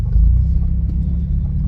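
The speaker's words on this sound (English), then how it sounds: "If you're wondering why it's so loud, his exhaust broke." A Mazda MX-5 with its exhaust split before the muffler roars loudly and steadily, a deep continuous engine drone with heavy low rumble close up and no pauses.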